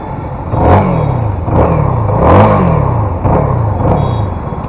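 A CF Moto 300 NK motorcycle engine idles loudly up close and is blipped through several quick revs, each rising then falling back to a steady idle.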